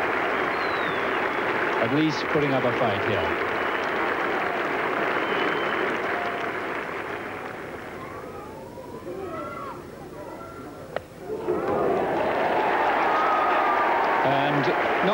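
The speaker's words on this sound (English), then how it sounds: "To a great cheer from this Yorkshire crowd" A Yorkshire cricket crowd at a 1981 Ashes match applauds and cheers in a broad, sustained wash of sound that dips partway through and then swells again, while a commentator talks over it.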